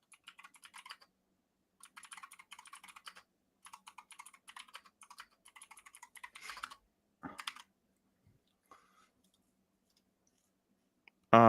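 Bursts of rapid typing on a computer keyboard, fairly close and quiet, arriving in several separate runs with pauses between them, followed by a few scattered clicks and a short loud thump at the very end.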